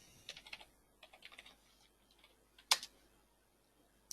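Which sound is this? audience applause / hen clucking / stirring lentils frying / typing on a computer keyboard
typing on a computer keyboard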